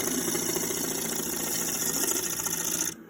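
A wood lathe spinning a big leaf maple bowl blank, a medium-hard wood, at about 800 to 900 RPM, giving a steady close whirring hum with a faint rubbing rasp that cuts off abruptly near the end.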